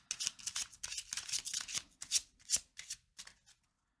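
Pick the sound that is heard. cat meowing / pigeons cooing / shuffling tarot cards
shuffling tarot cards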